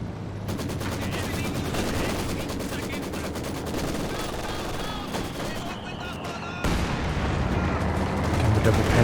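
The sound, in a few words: Maxim machine gun firing in Company of Heroes 2 video game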